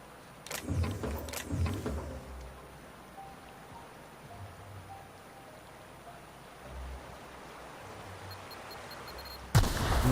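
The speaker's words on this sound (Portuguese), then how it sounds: "Outra bomba" Bomb explosions in The Outer Worlds video game, with two sharp booming blasts near the start followed by a low rumbling, crackling ambience and a sudden loud burst at the end.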